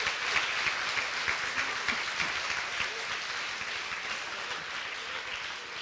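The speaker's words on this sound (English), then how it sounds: "Maybe one big round of applause for the jury as well." Sustained applause from the audience at a live university thesis competition final, a steady dense wash of clapping lasting several seconds, honoring the jury.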